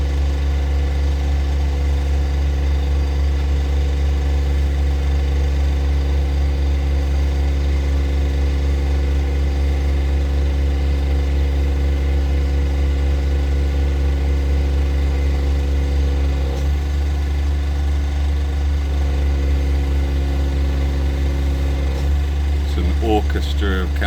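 A council contractor's van engine idles on a London street on a Tuesday morning, a steady loud low drone with a constant mechanical hum, close and unchanging, with brief clatter near the end.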